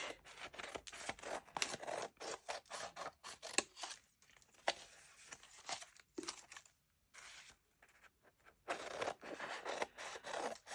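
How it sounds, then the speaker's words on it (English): Scissors cut the edge of a woven paper collage board in short bursts of close, quiet snipping and scraping, with a few pauses between cuts. "And then trim off this edge."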